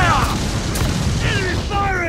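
Enemy ship cannons boom in a naval battle in Assassin's Creed Black Flag, a short heavy blast amid a continuous low rumble of sea and combat, with faint whistling tones over it.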